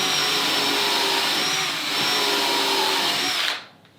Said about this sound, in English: And now I'm going with the 1/4 inch bit, and that will pull itself in at the angle.